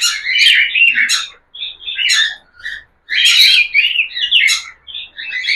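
Cockatiels chirp and tweet in bright, repeated bursts with short pauses between them, close and fairly loud, and no voices are heard.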